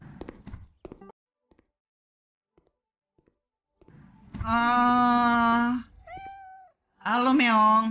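A cat meows in the video game Cafe Owner Simulator: two long, loud, drawn-out meows with a brief softer chirp between them, after a few faint clicks and a quiet pause.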